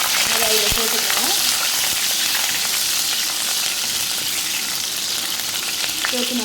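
Shallots, about five cut into large pieces, sizzle with green chillies in a hot pan, a steady close crackling hiss with occasional stirring clinks.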